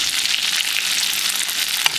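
Steak frying and being basted in a frying pan, a steady close hiss of hot fat with faint spoon scrapes and a brief louder spit near the end, no voices.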